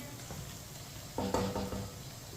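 Onions fry in a pan while a spoon stirs them, a low steady sizzle broken by a brief clatter of the spoon against the pan near the middle, close and with no talking.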